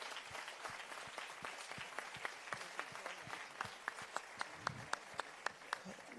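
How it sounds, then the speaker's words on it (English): Applause from a live audience honoring family members of the Emanuel 9 church shooting victims, a steady wash of many hands clapping at moderate distance, with a few sharper individual claps standing out toward the end. "give them a round of applause as well"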